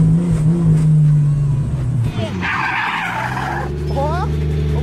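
Nissan 350Z drifting, its engine droning loud and steady while tires skid and screech in bursts near the end, with voices chattering over the noise.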